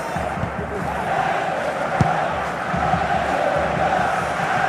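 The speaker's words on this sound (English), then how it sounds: "The crowd certainly think so. Just listen to them." A virtual stadium crowd in the FC Mobile football video game roars and cheers in a loud, sustained wash, with a brief sharp thump partway through.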